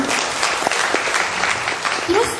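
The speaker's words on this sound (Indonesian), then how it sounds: "Tepuk tangan dong buat portir." An audience bursts into brief applause for a porter during a talk. The clapping is dense and mid-distance, with speech running over it.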